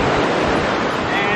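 Ocean waves wash onto the beach at Sanibel Island, Florida, a steady, loud surf rush with wind noise on the microphone and no break in the sound.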